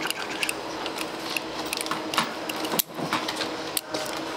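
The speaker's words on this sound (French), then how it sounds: "Et là, je vais venir couper les arêtes" Chef in Tokyo cutting through the bones of a market fish, a series of small crisp clicking snips and crunches in an irregular rhythm, close and fairly quiet.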